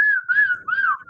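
A short, clear whistled phrase of three wavering tones, close and loud, with no talk.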